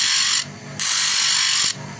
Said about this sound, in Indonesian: kita udah masukkan ring, kita proses amplas